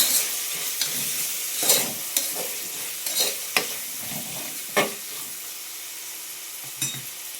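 Green peas are stirred in a sizzling pan for mint pulao, with a soft continuous hiss broken by several sharp scrapes and clacks of the spoon against the pan.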